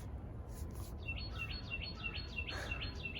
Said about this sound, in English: That bird sounds so beautiful.